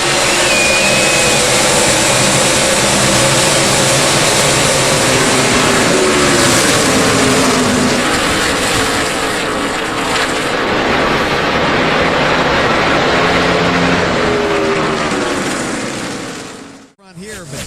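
NASCAR stock cars roar around Indianapolis in the Brickyard 400, a loud, sustained pack of engines with pitch sweeps as cars pass close, dense and continuous before cutting off abruptly at the end.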